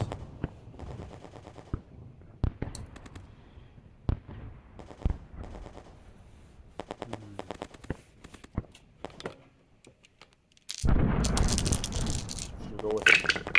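Dice rolled during a Stalingrad board game: a series of sharp clicks and rattles as the dice tumble and strike the table, followed by a burst of excited voices.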